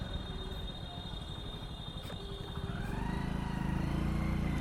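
A motorcycle engine runs steadily close by during a ride in city traffic, its hum building slightly louder toward the end.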